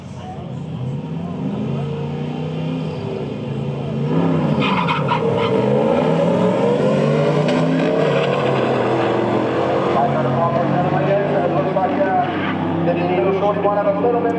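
Toyota Hilux launching at a drag strip with too much power and spinning wheels, engine revving hard and rising in pitch as tyres scrabble, loud and close, with a commentator talking over it.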